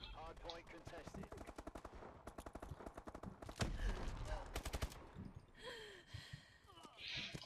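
Rapid automatic gunfire and sharp single shots from the video game Call of Duty: Advanced Warfare in a hardpoint multiplayer match, with dense bursts, explosive hits and game announcer voices.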